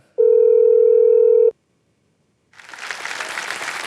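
Telephone call being placed on a television quiz show: a loud steady tone lasts over a second, then silence, then a broad rising wash of crowd noise.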